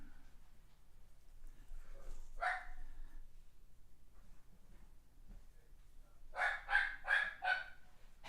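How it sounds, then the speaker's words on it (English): Dogs bark at feeding time, with one short burst of barking followed by a quick run of four or five sharp barks nearby against a quiet background. "It's feeding time for the dogs, so you'll probably hear Abner going a little crazy."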